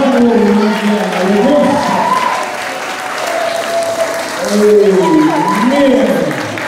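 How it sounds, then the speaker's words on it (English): Congregation applause during a church service, clapping running throughout beneath loud singing or sustained vocal tones and voices, with the crowd noise staying fairly even. "Give him another round of applause."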